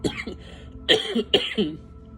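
A few harsh throat-clearing coughs close to the microphone, in two or three bursts with short pauses between.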